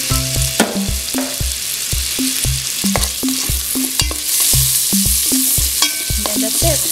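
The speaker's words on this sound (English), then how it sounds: "just saute it with garlic and butter." Shrimp sautéing in garlic and butter in a pan: a steady sizzle runs throughout beneath rhythmic background music.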